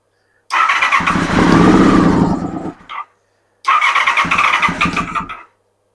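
Honda VFR400R NC24 motorcycle engine cranking over on the starter without catching, two loud close bursts of several seconds each with a short pause between them and no speech.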